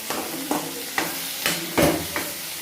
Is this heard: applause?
no